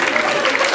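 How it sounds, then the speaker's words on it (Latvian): Audience applause fills a panel discussion at Latvia's 2013 national youth policy forum, a short, steady wash of dense clapping with voices mixed in. "Bravo, aplaus ekskursijā!"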